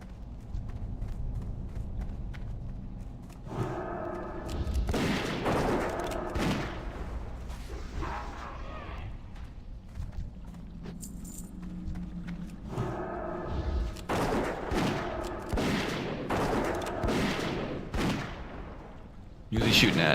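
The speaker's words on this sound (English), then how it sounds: "Who's he shooting at?" Gunfire in World of Warcraft Hardcore Classic comes as bursts of sharp, loud shots and thuds, clustered in two main volleys separated by quieter stretches, with background game ambience throughout.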